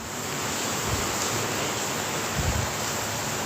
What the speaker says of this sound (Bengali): এই দেখুন বন্ধুরা, আমার তরকারি কত সুন্দর ফুটতে শুরু করেছে।